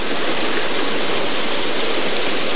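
A close waterfall rushes steadily in a dark spot, a dense, loud, unbroken roar of falling water with no voices.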